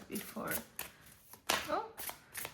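Oracle cards being shuffled in several quick riffling bursts, close and fairly quiet, during a tarot-style collective reading.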